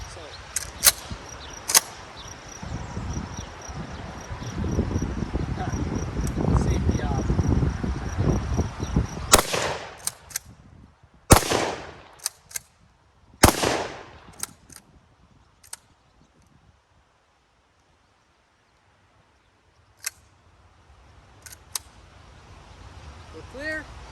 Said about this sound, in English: We fired 3 shots.